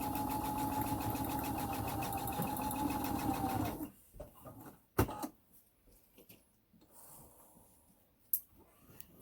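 A sewing machine stitches notched bag corners closed in a fast, even whirring run for about four seconds, then stops, leaving faint handling clicks and soft rustles.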